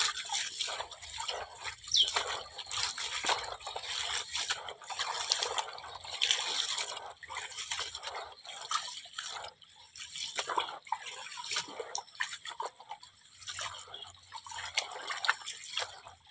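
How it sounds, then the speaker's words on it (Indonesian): Eggshells being washed and squeezed by hand in water, making faint, continuous splashing, trickling and dripping sounds close up, with no talking. "Cuci sekaligus diremas-remas."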